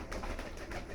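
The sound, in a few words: pigeons cooing indoors while being fed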